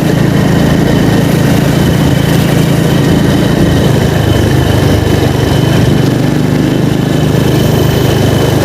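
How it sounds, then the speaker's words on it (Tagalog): Bored pile drilling machine working at the MRT-7 elevated guideway construction site on an uneven road, a loud, steady low engine drone with continuous machinery rumble throughout, no talking. "at dito nagdi-drill po sila ngayon wala pang cutter yung dulo ng file boring machine"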